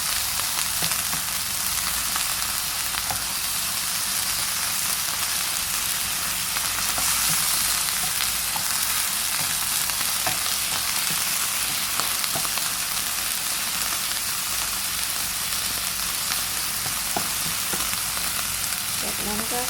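Minced pork with garlic stir-frying in a pan, a loud, dense, continuous sizzle that holds steady throughout with faint occasional scrapes.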